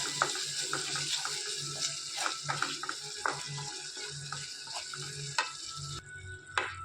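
Egg masala curry with curd paste bubbles and sizzles in a pan while a spoon stirs it. Soft scrapes and clicks sound over a constant hiss, fairly quiet and close, with no talking.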